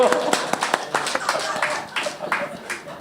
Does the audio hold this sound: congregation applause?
yes